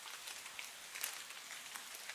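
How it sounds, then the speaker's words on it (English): Raindrops pattering on branches and leaves in a forest in Kingdom Come: Deliverance II video game, a soft, fine, continuous hiss of drops with scattered brighter ticks, fairly faint and without talk. "like the drops hitting branches and leaves"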